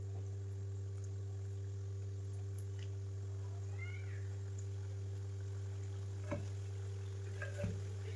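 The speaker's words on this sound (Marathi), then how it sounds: "तेल चांगलं गरम करून घेतलं आणि आता गॅस कमी केलाय आणि आता मी शंकरपाळी टाकली आहे तेलामध्ये" Shankarpali dough pieces frying in hot oil on a lowered gas flame give a faint, steady sizzle over a constant low hum, with a couple of brief knocks near the end.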